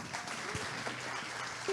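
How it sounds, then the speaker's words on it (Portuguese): Warm audience applause welcomes a speaker at the first Vila Abraão Festival, a steady, dense patter of many hands clapping, moderately loud and continuous throughout, with a faint voice briefly surfacing near the end. "Eu queria que você recebesse com um aplauso caloroso a presidente do Instituto Encontros, Ana Barreto."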